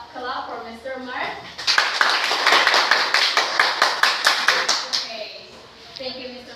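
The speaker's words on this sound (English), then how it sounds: "Can you give a clap for Mr." A classroom of children claps for a teacher volunteer after a physics demonstration, a burst of quick, loud, close claps lasting a few seconds, with voices before and after.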